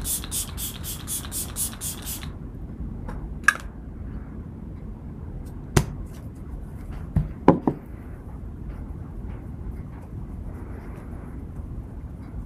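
Milk Makeup setting spray misted onto the face, a rapid series of short sharp hissing spritzes at the start, close and crisp, followed by quieter rustling and a few light knocks.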